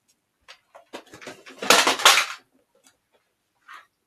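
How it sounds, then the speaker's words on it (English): A plastic water jug lid falling off and clattering on a hard surface, a cluster of close, bright rattling knocks peaking in two louder clacks, then a couple of faint ticks after a pause. "Top of my water jug fell off."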